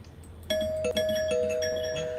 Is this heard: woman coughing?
no